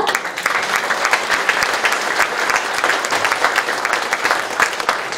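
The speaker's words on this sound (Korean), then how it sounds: "시민 여러분께서는 저희가 한 분 한 분 소개드릴 때마다 큰 박수로 환영해주시면 고맙겠습니다" Sustained, dense applause from a large audience greeting officials as they are introduced at a city talk concert marking the Icheon mayor's 100 days in office, steady and loud throughout with no voices standing out.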